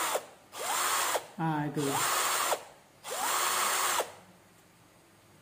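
Budget cordless hand drill boring into concrete, three loud whining bursts that rise and settle as the motor spins up, separated by brief pauses, with someone speaking briefly between bursts.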